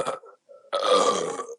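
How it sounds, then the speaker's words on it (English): A woman's long, foamy burp after gulping beer, starting with a couple of short croaks and gaps, then a loud, drawn-out gurgling belch that fades at the end. "Oh, foamy burp."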